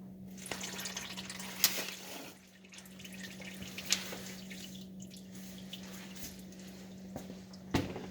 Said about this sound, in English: Of course there's some spilling right now.